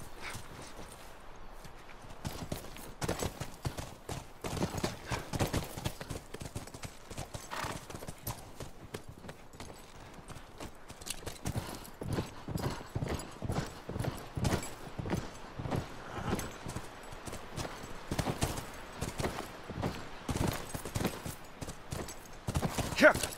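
Horses' hooves clip-clopping at a steady walking rhythm in the video game The Last of Us, close and continuous for over twenty seconds. Occasional snorts or whinnies and intermittent voices are also heard.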